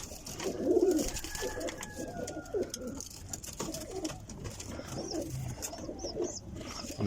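Domestic pigeons coo repeatedly on a rooftop loft, soft throaty calls rising and falling at close range over faint outdoor background noise.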